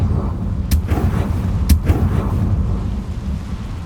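The Confringo spell goes off in the video game Hogwarts Legacy: two sharp, loud blasts about a second apart, each followed by a rolling low rumble that fades off.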